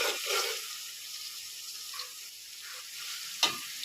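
Onions and beef fry in a pot with a constant crackling sizzle. A brief scraping stir is heard near the end, with no voices.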